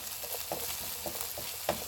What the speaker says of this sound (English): So now the oil is heated, so I'm just going to go ahead and then add in the onions to it.